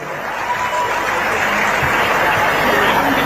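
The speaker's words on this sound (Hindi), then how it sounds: "सभी के लिए एक बार जोरदार ताली।" A hall audience at a medical college auditorium event claps loudly and continuously, a dense steady wash of applause with some crowd murmur beneath it.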